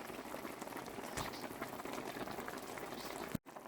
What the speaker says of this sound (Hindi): अभी चिकन पक रहा है, अभी रहने देंगे हम।